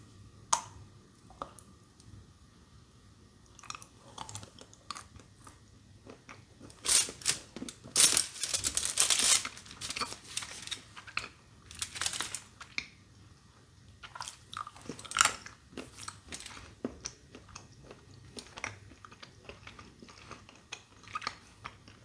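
Someone breaks off a small square of a sweet, with a salted caramel flavour mentioned, then chews it up close, making crisp snaps followed by repeated crunchy bites with brief pauses.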